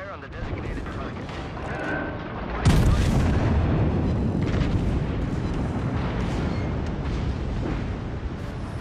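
Naval artillery from the Gneisenau battleship in the World of Warships: Legends video game, where a heavy boom hits about a third of the way in and rolls into a loud, sustained rumble of gunfire and explosions.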